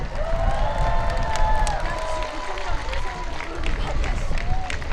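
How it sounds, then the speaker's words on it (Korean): At a district lantern festival, a large outdoor crowd claps and cheers for the district mayor, a continuous mix of applause and raised voices. "우리 다시 한번 어, 오원석 구청장님께 어, 큰 박수 부탁드리겠습니다"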